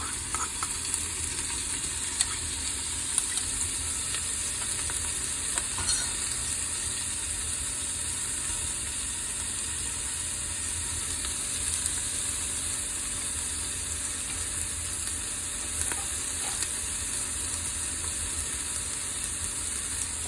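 Chopped onion and grated ginger frying in a pan while being stirred, a steady close sizzle with faint scraping and clinking of the utensil throughout, no talk.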